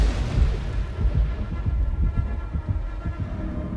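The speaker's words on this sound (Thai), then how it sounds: "เสียงหัวใจของเราก็จะกลับมาดัง กลับมาเต้นเป็นปกติแบบนี้ฮะ" Dead by Daylight gameplay carries a low, thudding heartbeat that pulses in a steady rhythm throughout, deep and booming over a dark ambient hum.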